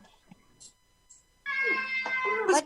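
Cat meowing in a drawn-out, wavering call that starts abruptly partway through and rises at the end, fairly close, after a stretch of near silence with faint small noises.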